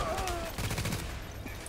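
Gunfire in the Dark Zone of The Division shooter game crackles as a rapid burst of shots, dense and fairly loud, with a faint voice murmuring underneath.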